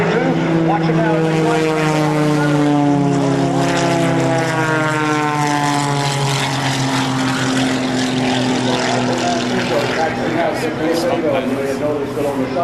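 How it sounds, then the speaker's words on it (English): A Cap 232 aerobatic propeller plane flown at a 2004 Air National Guard open house airshow drones loudly overhead, its engine pitch sliding and shifting steadily as it maneuvers, sustained and close throughout. "Aircraft on the left, it's Mr. Michael Goulian of the Airshow hardware Castrol Aviator Cap 232"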